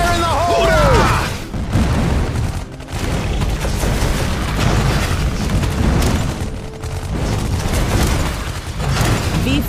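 Explosions boom in the sci-fi strategy game Iron Marines, heavy low blasts mixed with gunfire-like bursts, loud and close, with a brief voice line near the start.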